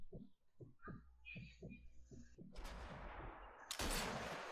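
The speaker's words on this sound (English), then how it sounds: "Waiting for that cannon to go off." A cannon fires in Sniper Elite 4, a loud booming blast landing after a run of rhythmic low thumps, then a second heavy burst of noise near the end.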